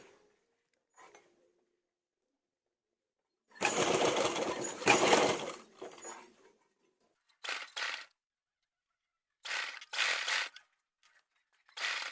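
A sewing machine stitches a blouse sleeve in short bursts, a rapid whirring rattle that starts and stops several times between stretches of silence, close and fairly loud.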